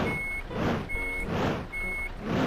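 A coal-hauling truck in a truck simulator reverses with three evenly spaced electronic beeps sounding over the steady rumble of its engine.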